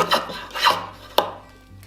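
A drawknife shaves wood in three quick strokes, each a short rasping scrape close by, the last one sharper and ending in a brief crack, with quiet between strokes.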